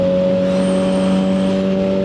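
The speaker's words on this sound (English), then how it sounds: "Oh, look, a Walmart truck." A Walmart truck passes on a highway, its steady tonal drone and road rumble heard close and constant from a moving vehicle, with wind noise and no talking.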